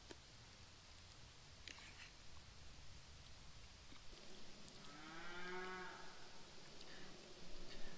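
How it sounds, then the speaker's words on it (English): A cow moos at a distance partway through, a drawn-out low call over quiet outdoor background noise. "The cows are very active today"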